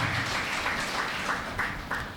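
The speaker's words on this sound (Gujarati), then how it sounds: "તાળી પાડીએ આપણે." A church congregation claps in unison, a steady, fairly soft run of sharp claps with a few louder accents, filling a large room with little speech over it.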